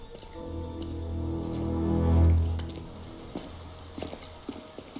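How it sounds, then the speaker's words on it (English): Rain falls on a dark night in the game Mafia: Definitive Edition, a soft steady patter with scattered drips and a low rumble that swells then fades, with no voices. "A rainy night. A classic."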